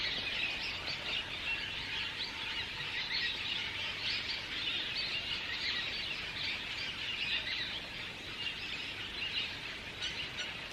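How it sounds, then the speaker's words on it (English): A dense chorus of birds sings and chirps without pause in the wild mountains of West Sikkim, many calls overlapping at steady loudness with no voices. "I'll be quiet and see if you can hear all the birds."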